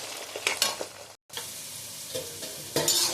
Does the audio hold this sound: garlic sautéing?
yes